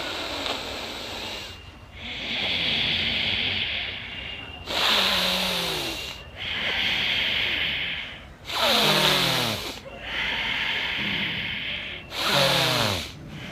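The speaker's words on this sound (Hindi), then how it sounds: "लंबी श्वास ले रहा हूं, छोड़ रहा हूं।" Bhastrika pranayama breathing done up close and loud: long, forceful breaths rushing in and out through the nose in a slow, even rhythm, with about three full in-and-out cycles and brief pauses between strokes.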